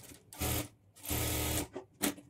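Sewing machine stitching a folded half-inch hem on a blouse sleeve edge, running in three short bursts of rapid whirring separated by brief pauses, close and moderately loud.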